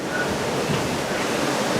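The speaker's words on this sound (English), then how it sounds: "these waves are bad. They're really bad." Rough ocean waves heard from the deck of a Carnival cruise ship, a steady loud broadband rush and roar of surf and wind, continuous and close, with no talk.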